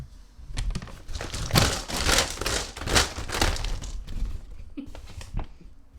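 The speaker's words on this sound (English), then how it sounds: "I'm shuffling the bag, my dear." Mahjong tiles shuffled in a bag during a video game, a run of clattering, crinkling rustles in uneven bursts, close and moderately loud, tapering off near the end.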